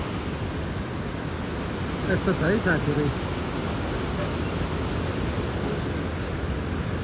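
Water rushes out from beneath a hydropower dam's power intake as a continuous loud roar, with someone briefly speaking over it partway through.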